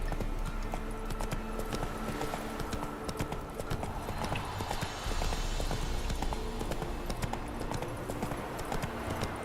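A horse gallops in The Witcher 3, its hooves beating a fast, steady clip-clop close by throughout, with a faint snort or whinny mixed in.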